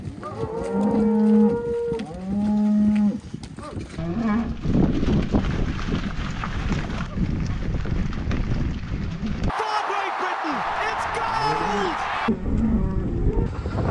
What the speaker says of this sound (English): We're moving cows.